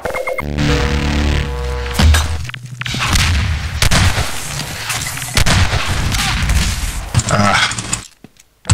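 Grenade explosions in a Half-Life 2 Deathmatch match, loud booming blasts mixed with gunfire bursts over several seconds, ending in a sudden quiet before one last thump.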